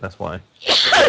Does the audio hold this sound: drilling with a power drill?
no